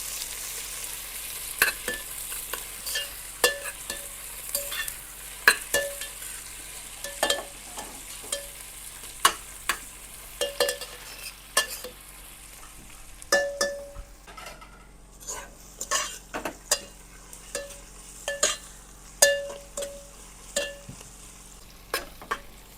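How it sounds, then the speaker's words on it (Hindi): Onions and chillies frying for Bihar-style mutton, a soft continuous sizzle in the pan punctuated by repeated sharp metallic clinks and scrapes of a spoon stirring against the vessel, fairly close and with no talk. "उसके बाद फिर ओनियन डालेगा। और मिर्च का अभी इसको 5 मिनट ब्राउन करेगा।"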